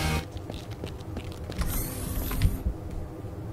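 Mechanical creaking and ratcheting of a sliding door mechanism in a space exploration video game, a steady grinding creak with small clicks running throughout, fairly close and moderately loud, with no voices.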